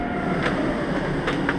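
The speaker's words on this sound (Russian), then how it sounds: "Так, один из поездов наших." A train rumbles past close by in Toulouse, France, a steady continuous roar of rolling wheels with faint clattering and no voices.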